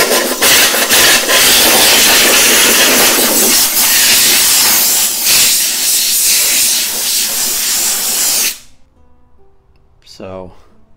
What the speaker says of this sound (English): now I have a compressor